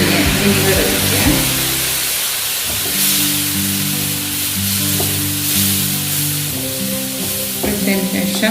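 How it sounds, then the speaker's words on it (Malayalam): Vinegar hits a hot pan of turmeric, ground mustard and fenugreek for a prawn pickle, setting off loud continuous sizzling and bubbling with stirring, while background music plays throughout. "കുറച്ച് വിനീഗർ ഒഴിക്കാം."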